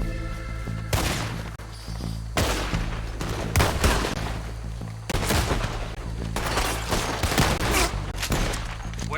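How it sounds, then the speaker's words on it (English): Gunfire crackles through a shootout with raiders in Red Dead Redemption 2, several loud bursts of rapid shots repeating across the scene with brief lulls, close and dense. "Shooting across the raiders."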